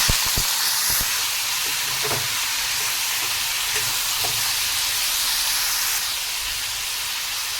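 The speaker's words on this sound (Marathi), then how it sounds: "आता याच्यामध्ये आपण डांगर घालणार आहोत" Pumpkin dropped into hot oil tempered with asafoetida, green chillies and curry leaves gives a steady, close frying hiss and sizzle. A few knocks and stirring clatters come early, then the sizzle settles and runs on with no talk.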